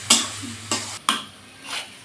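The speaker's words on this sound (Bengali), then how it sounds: "এবার শাকটা ঢেলে দেব। ঢেলে সুন্দর করে নেড়ে চেড়ে বেশ ভাজা ভাজা করে নেব।" Greens being stir-fried in a pan with fried garlic and onion, four distinct bursts of scraping and sizzling as a spatula turns the leaves, separated by short quieter gaps, close and moderately loud.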